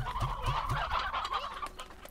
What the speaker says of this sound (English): We have quite a few stony chickens.